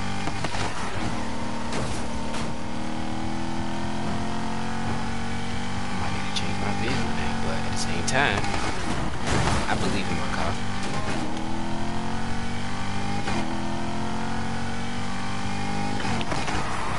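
Sports car engines, including a LaFerrari, revving in a racing video game, layered engine tones sweeping up and down through gear shifts with crashes and scrapes, while people talk over them.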